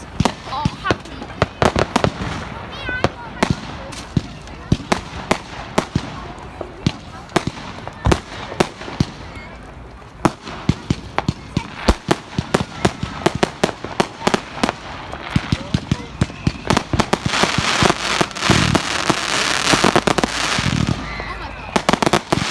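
Bonfire night fireworks burst in a rapid, irregular barrage of sharp cracks and bangs, some near and loud, with a dense crackling flurry toward the end and voices heard over the noise.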